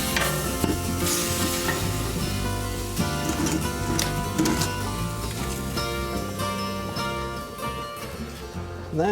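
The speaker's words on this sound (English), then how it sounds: "This is some nice beef that's been chopped up into stewing cubes. We're going to let that simmer so that it can get nice and seared" Beef stewing cubes searing in a pot over a fire hiss and sizzle loudly and continuously, with irregular crackles and scraping stirs, plus a faint steady hum underneath and no speech.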